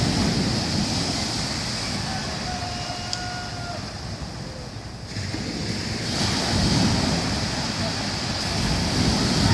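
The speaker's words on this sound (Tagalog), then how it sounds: "Uy, alon!" Ocean waves washing onto the shore, a broad continuous roar of surf with wind buffeting the microphone, swelling and easing over several seconds.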